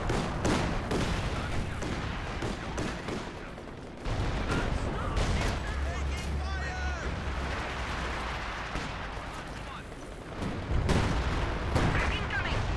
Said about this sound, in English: it's a mortar from the supply drop, not the machine gun anymore